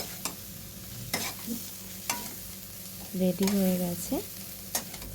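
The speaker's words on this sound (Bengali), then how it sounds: "ভালো করে আঁচটা কমিয়ে ভালো করে নাড়িয়ে নিতে হবে।" Soybeans are stirred with turmeric and chili powder in a frying pan over low heat, with several sharp spatula scrapes and clinks over a faint sizzle, and a brief spoken remark partway through.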